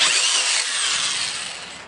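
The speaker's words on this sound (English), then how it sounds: "So you need a 2-inch hole saw bit, and we're just using a handheld drill." A handheld drill with a 2-inch hole saw grinding steadily through a crawl space wall for a sump pump PVC pipe, a loud high whine that slowly fades toward the end.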